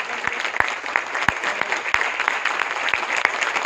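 An audience at a leadership training session claps hard inside a hall, a continuous wash of applause punctuated by several loud, distinct hand claps near the front.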